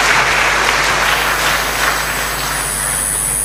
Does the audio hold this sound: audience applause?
yes